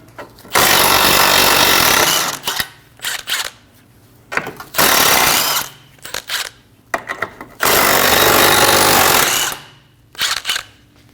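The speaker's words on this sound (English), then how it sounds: "Using a 17mm socket, remove the 3 nuts for the ball joint" Ball joint nuts on a 2012-2022 Volkswagen Passat front lower control arm loosened with a 17mm socket on a power tool, three loud close bursts of rattling impact hammering separated by short clanks and pauses.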